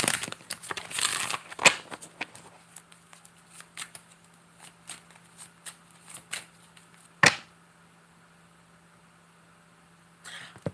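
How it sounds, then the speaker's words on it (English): A deck of tarot cards being shuffled by hand, close and crisp, with a dense riffle burst at the start, a sharp snap midway and scattered soft card slides and taps in between, no talking. "As I shuffle the deck"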